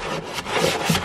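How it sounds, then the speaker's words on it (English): A toilet brush scrubs the inside of a garbage can, giving a short, continuous rough scrape with bristles rubbing hard against the can's wall. It is close and fairly loud, with no voices. "I like using my toilet brush because it gets in this really well for my garbage can"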